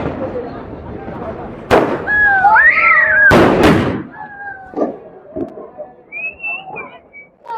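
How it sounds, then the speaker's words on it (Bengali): Fireworks go off on New Year's Eve: several loud sharp bangs and crackling bursts with whistling rising tones, heard close by amid people talking. "এখন আরেকটা আমাদের চোখের সামনে আতশবাজি"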